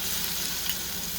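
Curry leaves hit hot oil in a home kitchen and sizzle in a steady, dense crackle for the whole moment, close and even, with no voices over it.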